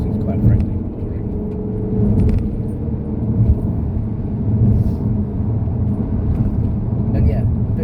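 A car drives along a country road and overtakes another car, with a steady engine and road rumble throughout and a faint whir. Someone talks over the noise.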